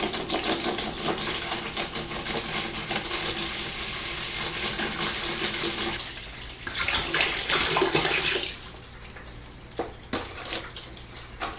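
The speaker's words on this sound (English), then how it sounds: "I'm gonna fill this up with some water" Tap water running into a container to fill it up, a steady rushing splash that swells louder near the end, then stops and leaves faint handling noises.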